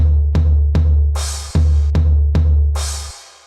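A punchy drum rhythm of kick hits in a repeating pattern, with two bright cymbal crashes ringing out over the beat for a move concept for Vibri, loud and close, ending abruptly.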